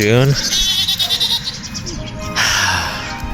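Several goats bleat loudly and up close, their wavering cries overlapping, with a person talking among them.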